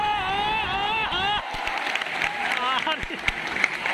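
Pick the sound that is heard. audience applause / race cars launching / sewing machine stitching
audience applause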